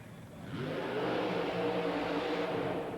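Super modified race car with a nitrous-oxide-injected Chevy engine and no supercharger, launching at a 1990 USHRA event in Orlando; a loud engine roar swells after a quiet start and holds steady, heard from a distance.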